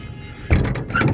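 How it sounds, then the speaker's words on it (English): School bus rear door opening and locking into place, a quiet lead-in followed by a sudden mechanical thump and rattling clunks as the door swings and latches, close by without talk. "Rear door, it'll make a noise when I open it."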